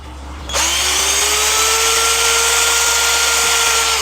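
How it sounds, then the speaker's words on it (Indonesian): A cordless power drill, run on solar power, starts abruptly and bores into PVC, a loud, close, steady high whine that holds constant for several seconds, with no talking. "Ya, kita langsung bor guys. Untuk jenis PVC ini guys."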